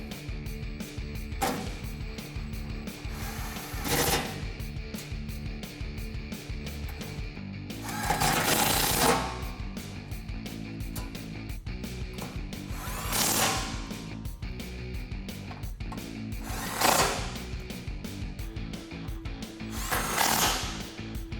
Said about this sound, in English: go ahead and grab your 10mm socket and tighten everything down